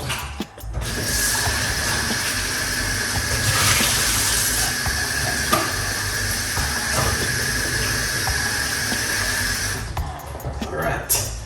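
Ingredients are rinsed under running water from a tap, with a steady close hiss of flowing water and small clatters of handling, lasting about ten seconds before the flow stops.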